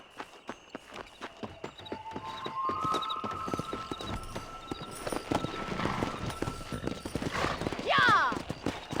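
Horse hooves in Red Dead Redemption beat out a steady, close clip-clop as the animal moves before a race, with voices and game sounds mixed in and a brief whinny-like sweep near the end.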